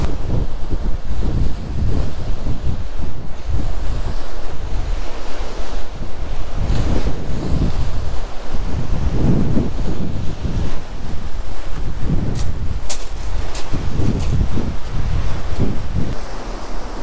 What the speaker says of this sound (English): the wind is swirling around the building